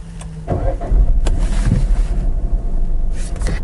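Peugeot 408 engine cranking and catching, a short start followed by a steady low idle rumble heard close up from inside the cabin.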